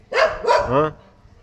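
Dogs bark sharply two or three times at close range, loud and quick, then quiet.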